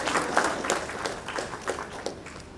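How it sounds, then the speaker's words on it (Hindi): Applause from an audience at a Jharkhand sports policy launch and players' felicitation ceremony, a steady patter of many hands with small swells, moderately distant and not very loud, running the whole time without talk. "जोरदार तालियां।"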